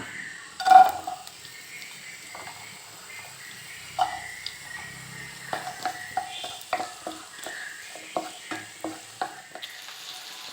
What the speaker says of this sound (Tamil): ஏற்கனவே நமக்கு முட்டையில் எண்ணெய் அதிகமாக இருக்கிறதுனால முழு வெங்காயத்தை போட்டுக்கிறோம்